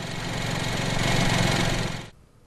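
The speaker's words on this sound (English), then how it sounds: "BMW plans to bring a totally new engine to market" A new BMW three-cylinder engine runs with a loud, steady, rough drone that cuts off sharply near the end.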